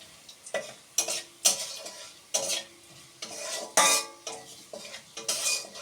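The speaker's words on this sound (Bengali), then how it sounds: "2 মিনিট ধরে ভেজে নেব।" Crushed green and black cardamom frying in a kadai for egg pulao, stirred with a metal spoon that scrapes and clanks in regular strokes over a steady sizzle.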